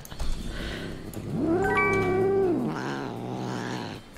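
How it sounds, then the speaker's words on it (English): Angry cats in the Crazy Cat Lady Simulator video game let out a drawn-out, rising and falling yowl in the middle, framed by softer growling murmurs, close and fairly loud. "Why are my cats angry?"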